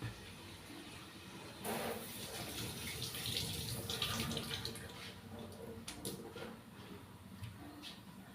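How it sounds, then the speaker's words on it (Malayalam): Tap water running steadily into a sink during face washing, a continuous mid-level splashing flow with a few brief clatters near the end. "ഇത് ഞാൻ ഇപ്പോൾ ഇപ്പം തന്നെ കഴുകി നിങ്ങൾക്ക് കാണിച്ചു തരാം"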